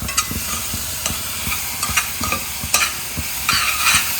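Sweet modak filling cooking in a pan, stirred with a utensil: a steady run of sharp scraping and clacking strokes against the pan over a soft sizzle, close and moderately loud, with no talk.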